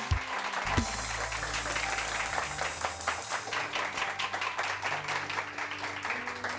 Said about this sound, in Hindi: पाकिस्तान और यूके के लिए बहुत सारी तालियां।